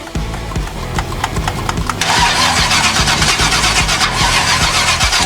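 An old 1974 car engine cranking with a rapid, even chugging of the starter for about two seconds, then catching and running loud and rough with a dense, uneven roar close by.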